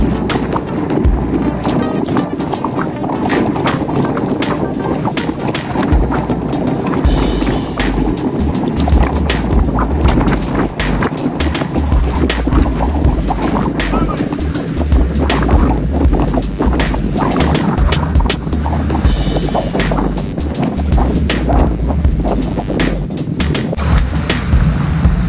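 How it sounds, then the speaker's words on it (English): Wind rushes past during a group cycling ride through a city paceline, a loud continuous buffeting roar with gusty low-end thumps and bursts that swell and fade throughout, no voices over it. "Hear the wind."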